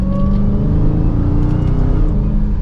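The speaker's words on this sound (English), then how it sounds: "hopefully the camera can pick up the supercharger whine" Loud 2022 Dodge Charger SRT Hellcat Widebody engine accelerating, heard inside the cabin, a steady high supercharger whine riding over the deep rumbling drone.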